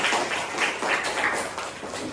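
A classroom group of students claps for group 3, a short burst of dense, loud applause with individual claps audible throughout, lasting about two seconds.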